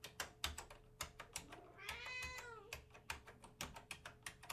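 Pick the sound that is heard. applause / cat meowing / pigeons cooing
cat meowing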